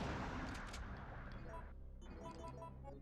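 A shotgun blast in Resident Evil 3 (1999), a loud close burst with a sharp attack and ringing tail, then fading into tonal game sound.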